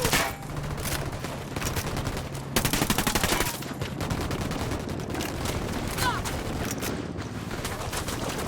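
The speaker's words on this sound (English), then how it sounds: "Opening fire." Rapid bursts of gunfire in Ghost Recon Wildlands crackle through a firefight, steady chattering volleys with a sharper, louder surge partway through, faint voices buried underneath.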